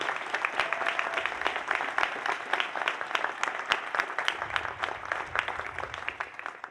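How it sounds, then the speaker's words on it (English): A law school commencement audience applauds graduates' families in a dense, even wash of many hands clapping, steady and full throughout without a break. "let's give them another big round of applause thanking them"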